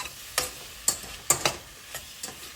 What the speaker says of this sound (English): Start giving that a stir.